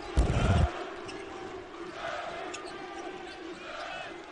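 Crowd noise fills a basketball arena at an NCAA men's game between Indiana and Morehead State, a broad steady roar opening with a loud thump, with an announcer talking over it.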